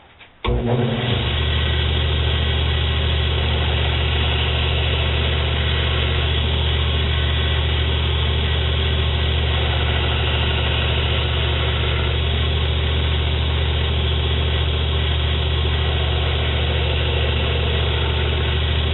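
A belt grinder fitted with a 120 grit belt, used for hollow grinding a knife, spins up at once and then holds a loud, steady motor drone close by, with no voices.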